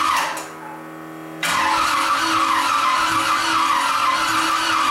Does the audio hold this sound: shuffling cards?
no